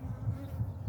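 Honeybees buzz steadily and close by as a hive is opened and its frames inspected, a continuous low droning hum that swells and dips without pause.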